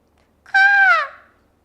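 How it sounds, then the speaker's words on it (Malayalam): A single loud, nasal peacock cry rings out once, rising slightly and trailing off, in otherwise quiet surroundings. "ഇത് മയിലല്ലേ? മയിലാന്നത്."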